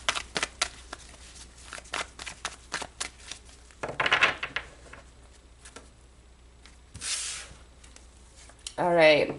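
Tarot cards are shuffled in a rapid series of crisp, close riffling clicks and flutters, broken by short bursts of a person talking.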